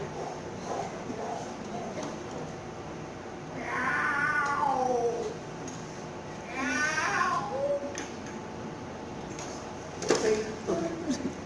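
A cat meows: two drawn-out, wavering cries and a shorter third call over a noisy room background, with a low murmur throughout.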